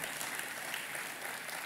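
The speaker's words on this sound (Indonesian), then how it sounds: "Sekali lagi tepuk tangannya yang paling meriah." A church congregation applauds in a steady, dense wash of clapping that stays fairly faint throughout, without voices over it.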